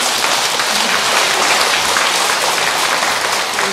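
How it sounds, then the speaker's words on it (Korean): Audience applauding steadily at a Buddhist Dharma assembly, a dense, continuous wash of clapping that stays loud and even throughout without any voices. "우리 교무스님한테 박수 한번 쳐주시고."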